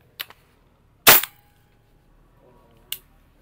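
Three sharp, loud gunshot-like reports from a WE M16A3 gas blowback airsoft rifle, spaced irregularly with a short pause between each and quiet in between.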